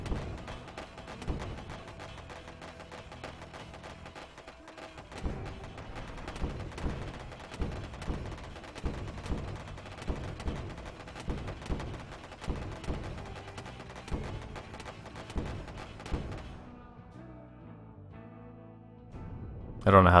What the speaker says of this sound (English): the guns in the front are fixed machine guns